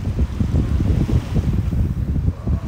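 Strong wind buffeting a microphone on the beach at Juan-les-Pins, a loud rumbling roar in constant gusts that covers everything, with no voices.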